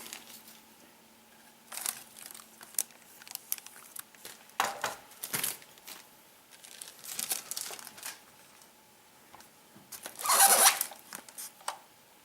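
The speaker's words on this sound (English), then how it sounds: "let's get these out of the plastic and we'll take a closer look at them" Plastic packaging crinkling and tearing as 1/18 and 1/24 scale die-cast model cars of a 2009 and 1970 Challenger are unwrapped, in irregular close bursts of rustling with a louder crackling burst near the end, no talking.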